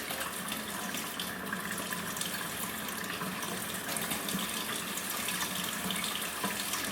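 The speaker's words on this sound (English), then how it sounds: "You get your brush wet." Running tap water gushing into a sink as a makeup brush is wetted under it, a steady close hiss and splatter that holds for the full seven seconds without talk.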